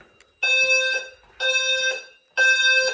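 A ceiling smoke detector under the stairs, set off by a fog machine while a fire alarm system is tested, sounds three loud, steady electronic tone bursts, each about half a second apart, with a short silence between.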